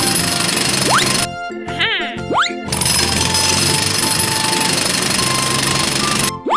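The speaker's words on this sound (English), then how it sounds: "It drills the cement around the mixer truck too." A drilling machine breaks up spilled cement around a mixer truck, a loud, steady rattling hammer that runs throughout, briefly interrupted by cartoonish whistles and boings.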